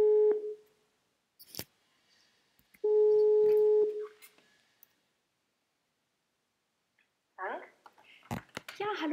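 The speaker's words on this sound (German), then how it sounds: "heute bin ich mit Kerstin verabredet, die ich jetzt gerne anrufen möchte" A German telephone call being placed, with a steady ringback tone sounding in two long bursts separated by a pause, followed by a faint click and then people talking briefly at the end.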